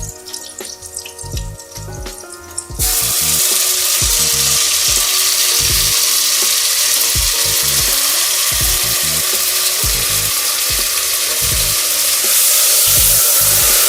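Onions with ginger garlic paste frying in a pressure cooker for vegetable pulao, giving a loud, steady sizzle throughout, with repeated low thumps of stirring and scraping against the pot after a quieter, clattery opening.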